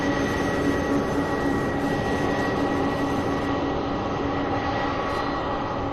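A fixed-wing airliner lands at Louisville International Airport, its engine roar a loud, steady, broadband wash that holds for the whole stretch without a break.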